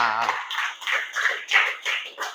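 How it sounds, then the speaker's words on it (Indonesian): A small group of students claps for a classmate at a junior high school, quick rhythmic bursts of clapping rising and falling near the listener, with some voices mixed in. "boleh tepuk tangan buat Aira"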